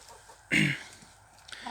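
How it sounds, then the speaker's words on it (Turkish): Hens on a small backyard chicken farm give one loud, close cluck followed by fainter clucks and scratchy rustles in the background; no voices are heard. "Bunların hepsi de tavuk arkadaş."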